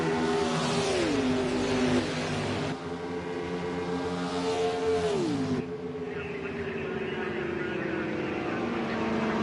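Race cars scream down the front straightaway of a sprint race at Indianapolis in a racing game. Several engines whine and shift pitch as they pass close and loud, under faint commentary.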